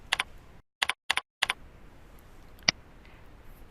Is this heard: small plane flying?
no